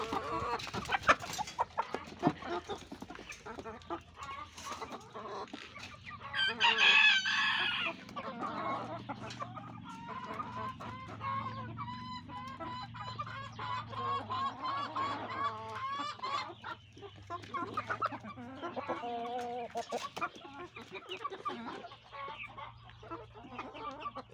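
Chickens clucking continuously over a long stretch, with scattered bursts and a rooster-like call rising briefly partway through, set against steady background noise.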